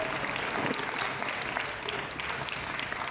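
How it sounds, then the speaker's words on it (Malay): A school assembly audience applauds its teachers at a farewell ceremony, steady clapping from many hands, moderately distant and even, continuing without a break. "Beri tepukan gemuruh untuk semua guru di sekolah ini."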